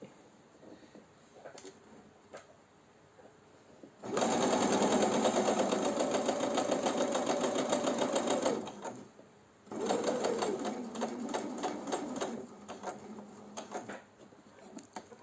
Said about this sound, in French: il faut coudre qu'une partie pour pouvoir retourner